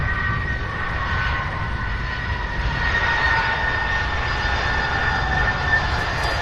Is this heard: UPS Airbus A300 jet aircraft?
yes